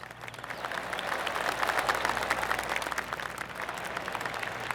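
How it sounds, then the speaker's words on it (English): Gallery golf clap from a crowd in the video game PGA Tour 2K25, a dense wash of polite applause that swells and holds steady, moderately loud and alone. "Oh, golf clap. That's a beauty."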